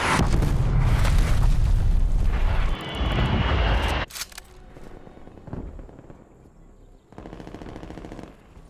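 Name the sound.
incoming artillery explosions in a video game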